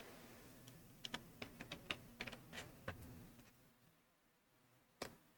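Someone types a mobile number on a computer keyboard, a quick irregular run of soft key clicks that slows and then stops, with one final louder tap, close and quiet.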